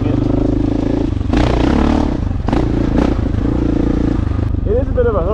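A motorcycle rides a backcountry single-track trail in Idaho, its engine droning loud and close with surges of revving, rattling clatter and scraping as it moves over rough ground.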